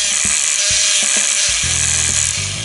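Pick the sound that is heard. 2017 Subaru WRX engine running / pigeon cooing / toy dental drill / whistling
toy dental drill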